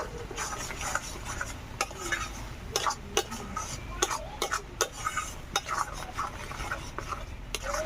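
Spiced fish stuffing of lote fish with chilli powder, turmeric and salt is stirred in a pan for potol dolma, with repeated scraping spoon strokes and clinks over a low sizzle, close and steady with no talking.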